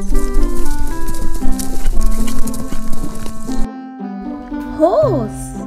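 Cartoon horse on an animated farm, a bright clip-clop of hooves over music followed by a rising and falling whinny, loud and close.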